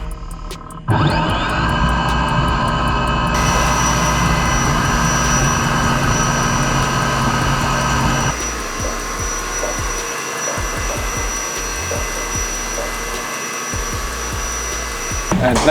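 A CNC machine spindle runs while planing a block, giving a loud, steady mechanical whine with a high tone that shifts and drops partway through, followed by continued cutting noise.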